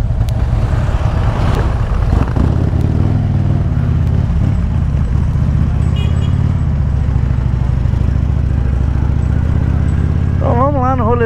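A red-painted Shadow motorcycle, ridden at night through Foz do Iguaçu, gives a steady, loud, low engine drone for the whole stretch, with people talking over it and a wavering whistle-like tone near the end.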